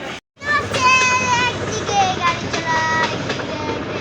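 A passenger train pulls out of Joydebpur station bound for Mymensingh at midday, its steady rumble and squealing wheel tones filling the scene, with children's voices and chatter mixed into the busy station noise.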